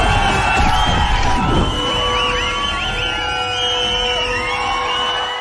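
An audience in a cinema hall at a showing of the Kannada film Karavali erupts in loud, sustained crowd cheering with whoops and whistles, a dense roar that holds steady throughout.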